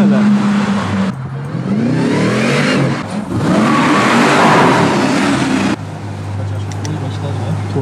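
A Dodge Durango SRT Hellcat with a supercharged engine revs hard and accelerates, a loud sustained roar rising in pitch with a whistling whine on top, heard from inside the car with brief speech.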